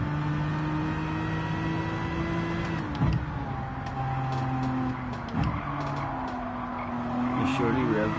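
A McLaren Group 4 race car in Gran Turismo 7 sends out a loud, steady engine drone that dips sharply at two gear shifts and then climbs again, with faint tyre noise throughout.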